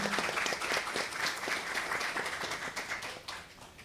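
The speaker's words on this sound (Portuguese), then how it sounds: "Salva de palmas aí para a nossa professora." At a university panel event on combating discrimination, an audience gives a professor a round of applause, a fairly soft but continuous clapping that tapers slightly toward the end.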